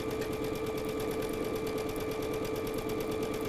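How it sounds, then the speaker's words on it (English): A sewing machine stitches a quarter-inch quilt seam, running steadily, its rapid even stitching hum continuing without pause, close and fairly loud, with no voices. "we can bring it over to the sewing machine then and put in a nice accurate 1/4-inch seam"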